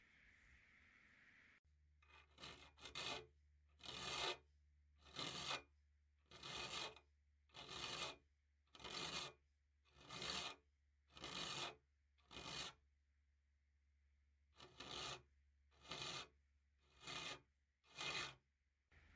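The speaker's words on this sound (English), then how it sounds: "So I went and filed all these raker teeth" A hand file rasping across the raker teeth of a crosscut saw, about a dozen steady, evenly spaced strokes close up, each a short gritty scrape with a brief pause between, a longer gap partway through, no voices.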